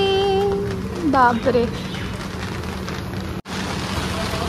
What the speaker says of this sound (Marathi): आणि पाऊस सुरू झालेला आहे